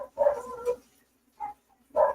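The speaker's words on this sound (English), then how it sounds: "I've got to go see what's going on with these dogs" Dogs barking indoors: a quick double bark, a short pause, then a single sharper bark, close and fairly loud.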